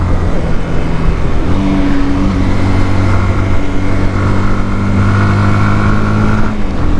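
A SYM NH Trazer 190i motorcycle engine pulls steadily uphill in fourth gear, a loud, continuous droning hum with a slight rise in pitch, close to the rider with no talk.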